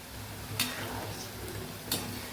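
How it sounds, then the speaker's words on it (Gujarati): Japanese-style french fries frying in hot oil, a steady close sizzle and bubble running throughout with two brief sharp scrapes or clinks as the fries are gently turned. "બસ આવી જ રીતે આપણે બધી ફ્રેન્ચ ફ્રાઈસને તળી લેવાની છે"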